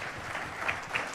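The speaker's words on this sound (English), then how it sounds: "Another round of applause" Clapping rises from a large audience at a 20th anniversary celebration of the African Council for Distance Education, a brief, fairly faint, continuous patter.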